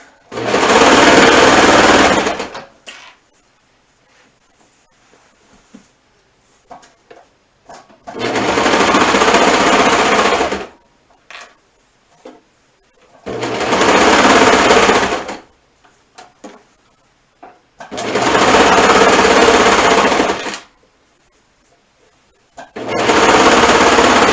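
Sewing machine stitching the second shoulder seam of a crossover top, loud close runs of stitching in five separate bursts, with quiet gaps of small handling taps in between.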